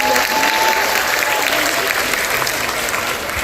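An audience at a press preview of the Keluarga Cemara stage musical applauds the cast with loud, sustained, dense clapping that stays full for over three seconds, with slight crowd noise beneath.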